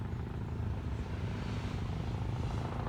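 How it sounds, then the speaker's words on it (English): A dark green sheriff's helicopter flies overhead with a steady, dense rotor and engine rumble, continuous and moderately loud throughout. "Then the helicopter, man, he's still going for it. That's the sheriff's copter"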